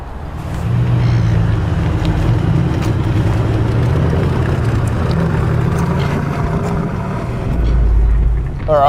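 A car pulls away from a dealership with a low, steady engine rumble and road noise, close and fairly loud, rising slightly at the end.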